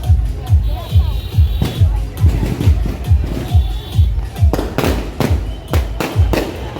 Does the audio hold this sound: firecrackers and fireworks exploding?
yes